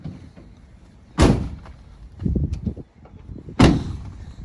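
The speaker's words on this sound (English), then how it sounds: "Let's just close these rear doors up." Two heavy thuds of a 2016 Ford Transit van's rear doors closing about two seconds apart, each a loud broadband slam, with some shuffling and handling noise between them.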